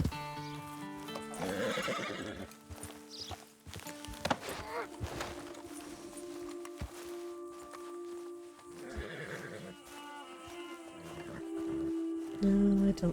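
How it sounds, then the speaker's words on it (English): Wild Kentucky Saddler horses in Red Dead Redemption 2 neigh and whinny several times, mixed with clopping hooves and footsteps. A voice talks faintly in the background. "Those look to be wild horses."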